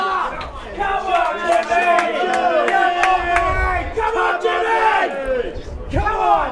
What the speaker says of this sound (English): the cheering's very loud